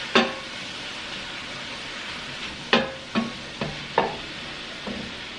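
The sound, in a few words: stirring carbonara sauce in a pan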